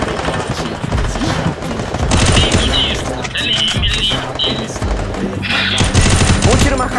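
Rapid bursts of gunfire from the Free Fire battle game in a 4v4 wagered match, dense and loud throughout, with several volleys layered over game sounds and faint voices.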